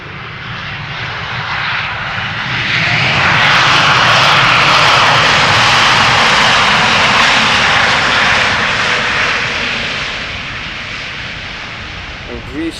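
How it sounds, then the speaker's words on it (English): At Schiphol, a Sky Express Airbus A320neo jet arriving from Heraklion rises from a distant whine to a loud, close roar, then fades away over several seconds. "this is Sky Express arriving from Heraklion A320 Neo"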